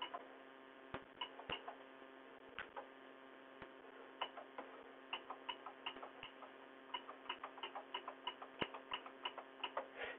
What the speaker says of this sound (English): You notice the 800 makes a clicking sound.